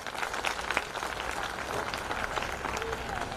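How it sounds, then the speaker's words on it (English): Applause and crowd noise fill a school sports day gathering, a dense, steady wash of many hands clapping with scattered voices throughout. "great praise and great applause from everybody for this"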